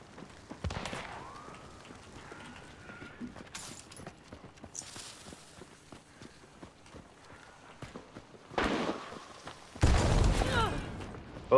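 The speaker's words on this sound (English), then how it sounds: "Somebody's, like, really far taking pot shots at us." Gunshots in the video game Hunt: Showdown, scattered distant cracks among footsteps and clip-clop movement sounds, with a louder close burst of shots and blasts near the end.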